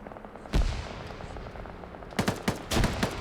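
Video game combat with grenades and gunfire: a sharp blast, then scattered bursts of shots and explosive pops over a low background rumble.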